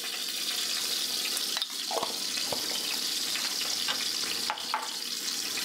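Chili powder frying in hot oil in a pan for a Bengali hilsa fish curry with taro, a steady hissing sizzle with a few soft scrapes and clinks of stirring.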